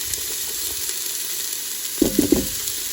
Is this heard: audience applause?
no